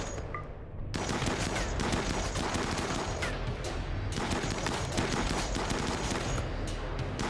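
Dense, continuous gunfire from shotguns and rifles in the video game Rimworld, rapid overlapping shots forming a loud crackling barrage after a brief quiet start.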